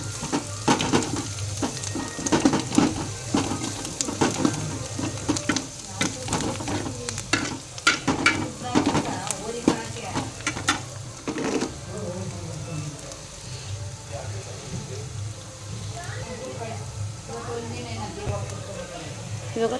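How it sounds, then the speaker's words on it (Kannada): Onions fry and sizzle in a pan for tomato gojju while a utensil scrapes and stirs them in repeated bursts, then the sizzling settles into a steady hiss, with a person talking over it. "ಒಂದು 5 ನಿಮಿಷ ಹಂಗೆ ಫ್ರೈ ಮಾಡ್ಕೊತಾ ಇರಬೇಕು."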